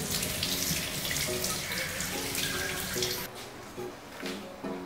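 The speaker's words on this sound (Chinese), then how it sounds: "再把鱿鱼和韭菜洗干净。" Tap water runs steadily into a sink as fresh squid and garlic chives are rinsed for a Chaozhou home-style stir-fry, a close, continuous splashing flow that eases off near the end.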